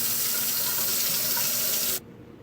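Tap water runs steadily into a sink, rinsing the lower portion of a Keurig K-525 coffee maker, a loud continuous rush that cuts off abruptly near the end, leaving quiet.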